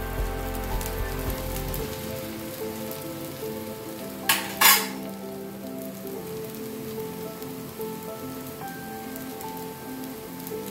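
A white sorghum millet dosa sizzles steadily on a hot pan just after being flipped, a continuous close crackle with a brief louder scrape or clatter midway, no voices.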